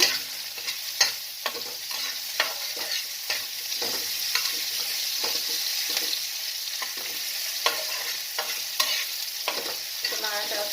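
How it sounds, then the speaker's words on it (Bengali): Onion sizzling in hot oil with a little salt added, a steady frying hiss with repeated spatula scrapes and stirring knocks at irregular intervals, close up and uninterrupted by voices. "সামান্য একটু নুন দিয়ে দিলাম পেঁয়াজটা ভাজার জন্য"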